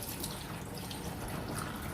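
Tap water pours onto clothes being washed in a tub, giving a soft, steady splashing and gurgling flow with no voices.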